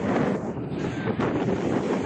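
Strong wind roars steadily against the microphone at a beach at low tide, a dense, continuous buffeting rush with no pauses and no voices.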